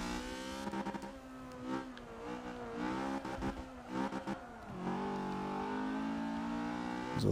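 BMW E30 M3 race car on the Nürburgring accelerating hard from a flying start, its engine revving loud and close with rising harmonic pitch sweeps through gear changes across the whole stretch, no talking.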